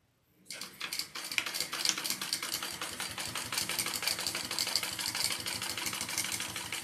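Close sewing machine stitching trim onto a handbag starts after a short silence, then runs as a fast, steady mechanical chatter without a break and with no talk over it.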